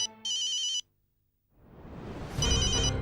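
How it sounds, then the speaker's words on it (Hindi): A landline telephone rings in two electronic bursts, a short one and a longer repeating trill, followed after a pause by rising clatter and a louder ring buried in household noise. "अरे बाप रे, पियर का फोन।"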